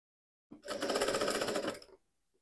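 A domestic sewing machine stitches a teddy bear backpack in a single short run of about one and a half seconds, a fast even whirring and rattling burst that stops cleanly, with no voices.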